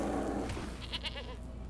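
Goat tokens bleat in the MTG Arena card game: a couple of short synthetic bleats rise over steady game background sound, moderately loud.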